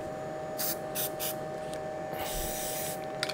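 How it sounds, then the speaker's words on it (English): White lithium grease sprayed from an aerosol can onto a cloth, beside a laser machine during maintenance, in three short bursts followed by one longer hissing spray over a steady background hum. "So what I would generally do is spray it on a cloth first"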